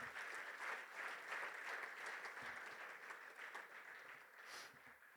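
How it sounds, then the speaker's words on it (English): Applause from guests at a referees' annual awards dinner, a steady wash of clapping from a seated crowd that stays even and fairly distant, fading slightly toward the end. "Give her a round of applause,"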